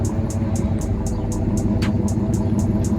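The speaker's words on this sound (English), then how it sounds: "You guys hear that exhaust?" Nissan 370Z with a single-exit exhaust idling nearby, a steady low rumble droning throughout with no voices.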